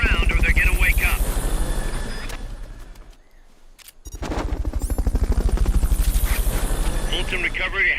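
Loud helicopter rotor thumping in rapid pulses from Metal Gear Solid: Peace Walker, fading to near silence midway before returning at full strength, with game effects layered over it.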